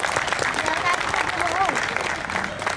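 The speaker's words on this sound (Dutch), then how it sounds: "Dus ik zou ook heel graag een applaus voor hen willen hebben" An audience at an outdoor civic gathering applauds volunteers, a dense, steady wash of clapping from many hands that holds evenly throughout, with no talking.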